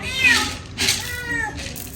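A domestic cat meows loudly and close by, three drawn-out calls in quick succession with short pauses between them.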